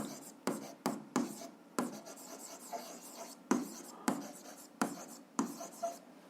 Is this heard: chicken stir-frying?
no